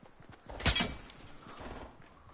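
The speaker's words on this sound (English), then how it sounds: "Yep, gun shooting." Gunfire in a PS4 shooter game: one loud, sharp burst of shots followed by a softer, scattered trail of reports, fairly close and otherwise alone without talk.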